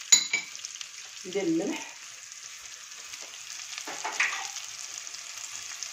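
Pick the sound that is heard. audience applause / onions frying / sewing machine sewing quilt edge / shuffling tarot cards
onions frying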